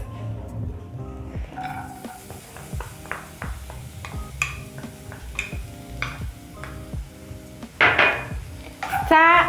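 Onions cooking in oil in a pan while being stirred, with a steady run of light metallic taps and scrapes of a utensil against the pan and a few louder clatters near the end.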